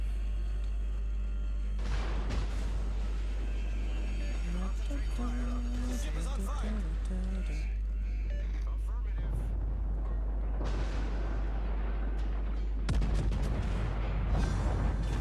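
Battleship guns firing in the World of Warships game, heavy booming salvos with rolling rumble, one near the start and another late, over constant low engine drone while someone talks throughout.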